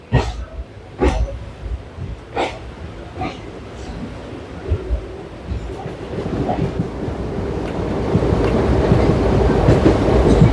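A train to Madurai rolls along the rails with rhythmic clacks of wheels over joints, growing into a louder continuous rumble toward the end.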